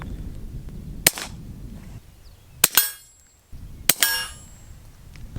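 Three sharp suppressed shots from a tiny Trailblazer LifeCard .22 pistol fitted with a can and firing heavier-grain ammo, each a crisp snap with a brief metallic ring, spaced about a second and a half apart over quiet outdoor background.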